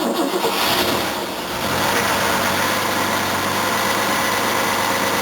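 A Mercedes engine cranks and catches, then settles into a loud, steady, rough idle close by, with no voices.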